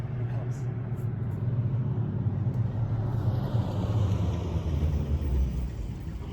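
A car drives past on a road outside a new housing community, heard as a broad low rumble and tyre roar that swells and then fades. A voice is heard faintly.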